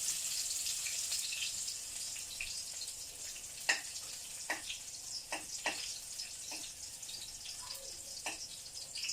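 Garlic drops into hot cooking oil and fries with a soft, continuous sizzle, broken by scattered sharp pops and crackles, fairly faint and with no talk over it.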